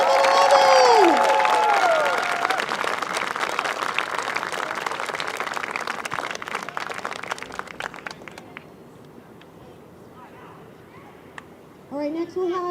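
Audience applause and cheering at a field hockey under-16 nationals presentation, a dense burst of clapping with a whistle-like squeal at the start that gradually thins and fades, followed by quieter chatter.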